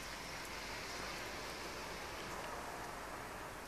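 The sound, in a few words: rain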